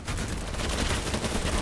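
Dense gunfire from sniper rifles in the video game Battlebit crackles in a rapid, overlapping burst that is loud and continuous for the whole short moment.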